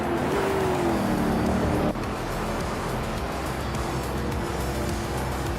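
A 1966 Shelby GT 350 race car engine roars steadily in a racing video game, loud and continuous with a rising pitch that drops abruptly partway through, followed by a sustained engine drone.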